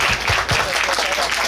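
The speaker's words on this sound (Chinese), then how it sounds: "我给你们拍拍手" A concert audience at an outdoor Hakka expo music show breaks into loud, dense applause that fills the whole moment, with some voices mixed into the crowd noise.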